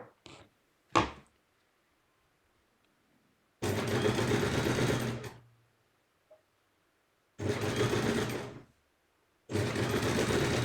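A sewing machine stitches piping in bursts: a few short taps at the start, then three loud sustained runs of stitching separated by silent pauses, with no talking.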